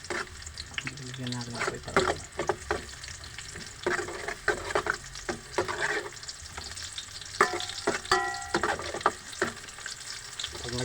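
Garlic frying in a pan for ginisang munggo, stirred with repeated scraping clatters over a soft sizzle while a person talks intermittently.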